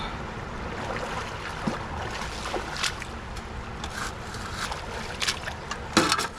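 A gas water pump engine runs steadily at a gold prospecting dig on the South Platte in Colorado, a low, even hum under the rush of water, with scattered clanks and splashes of work nearby.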